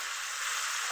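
Meat frying in a wok, a steady close hiss of sizzling oil with no voices.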